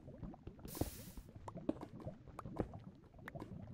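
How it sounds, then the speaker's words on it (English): Lava in Minecraft Feed The Beast, bubbling and popping quietly in irregular gurgles and plops, with one brief burst of hiss, faint and continuous. "New lava sound. Makes me think of boiling chocolate for some reason."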